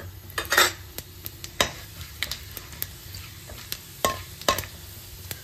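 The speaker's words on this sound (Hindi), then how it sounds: "तो अब हम इसमें ये 1 चम्मच मेथी दाना और 1 चम्मच जीरा, साबुत जीरा हम इसमें डाल देंगे।" Fenugreek and cumin seeds added to hot mustard oil, a soft steady sizzle punctuated by sharp clinks and scrapes of a spoon stirring against the pan, close and moderately loud.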